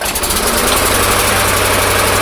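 A small lawn mower engine runs steadily at close range, a continuous rattling, buzzing drone with no break or change in pace.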